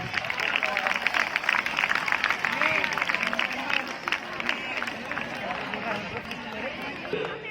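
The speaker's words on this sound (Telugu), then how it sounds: "గట్టిగా క్లాప్స్." Audience clapping for prize winners at a municipal 2K fun run, a steady broad wash of applause and crowd noise lasting throughout, fairly close and even in loudness.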